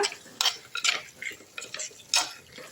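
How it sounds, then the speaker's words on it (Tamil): Citron pickle is stirred in plenty of oil in a pan, giving close scraping and clinking strokes in quick irregular bursts over a faint sizzle, with no speech. "நல்லா கிண்டி விட்டுடலாம்"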